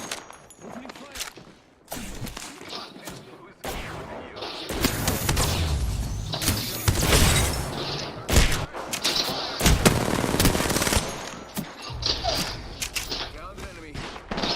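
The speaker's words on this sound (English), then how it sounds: "Opening fire." Gunfire in the video game Apex Legends, with dense bursts of rapid shots and heavy thumps rolling on and off for about fourteen seconds, loud and close, with chatter from players mixed in.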